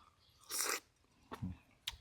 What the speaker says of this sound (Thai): กรุบกรุบดีแท้